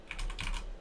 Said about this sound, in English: what you want to do is you want to type in